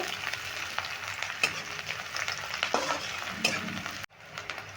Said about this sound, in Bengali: দেখো পেঁয়াজটা আমি একটু হালকা লালচে করে ভেজে নিলাম